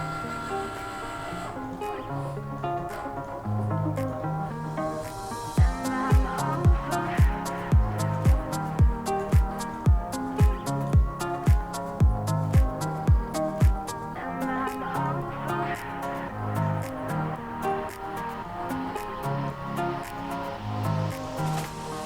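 A Cricut cutting machine draws a design on a tote bag with an Infusible Ink marker, a close mechanical hum with a run of regular sharp clicks from the moving carriage, set against soft background music.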